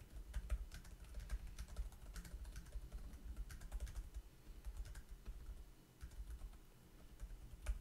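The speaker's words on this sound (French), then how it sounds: "on va voir ce que ça donne en termes de frappe" Fast, steady typing on a Microsoft universal keyboard in Word, a continuous run of quiet, close key clicks with no talking.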